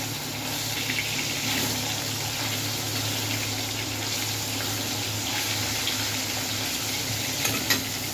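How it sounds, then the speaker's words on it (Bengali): Nigella seeds fry in a pan with a steady, close sizzle while being stirred, a continuous crackling hiss with occasional scraping ticks over about eight seconds, no talking. "দিয়ে দিল কালো জিরে। ভালো করে আমার নাড়াচাড়া করে নেবে।"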